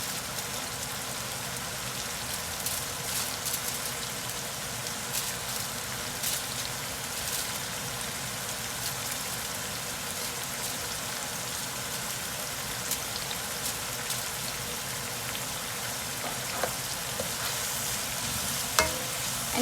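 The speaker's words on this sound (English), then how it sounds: "And in goes our Karela. And we're gonna leave this to start fry up." Bitter gourd pieces fry in a hot pan with a steady, dense sizzle and crackle throughout, with occasional sharper pops of spitting oil near the end.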